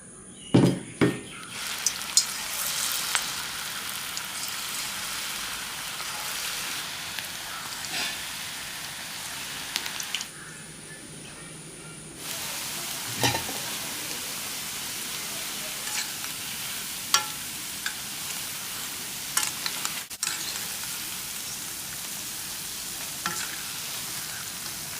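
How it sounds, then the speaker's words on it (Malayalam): Cabbage Manchurian mix deep-frying in hot oil gives a steady close sizzle with scattered pops and stirring clinks, easing briefly before the bubbling returns, with no voices. "എണ്ണ തിളച്ച് വന്നിട്ടുണ്ട്. അതിലേക്ക് മഞ്ചൂരിയൻ മിക്സ് ഇട്ട് കൊടുക്കാം."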